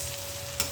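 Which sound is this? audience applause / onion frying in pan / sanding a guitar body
onion frying in pan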